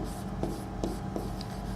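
A teacher writes on a classroom board during a botany lesson, a soft continuous scratching with a few brief accented strokes, quiet and close with no talk.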